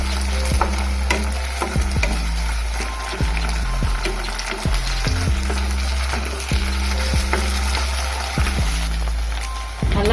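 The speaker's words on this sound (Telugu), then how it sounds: "దీనిలో 1 స్పూన్ అల్లం వెల్లుల్లి పేస్ట్ వేసుకున్నాము. ఇది కూడా కొంచెం వేయించుకున్నాము పచ్చివాసన పోయేంత వరకు." Ginger garlic paste and onion frying in a pan for an Andhra prawn fry, with a steady close sizzle and repeated scraping stirs throughout, no voices.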